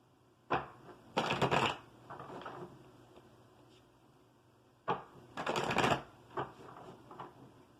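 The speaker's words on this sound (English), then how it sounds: "Two more shuffles." Two bursts of tarot card shuffling, each a quick riffle followed by a softer bridge-like flutter, separated by a few seconds of quiet; close and crisp.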